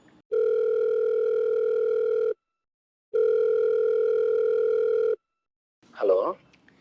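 Telephone call ringing out: two long, steady electronic ring tones separated by a pause, clear and close, followed by a brief burst of a voice answering.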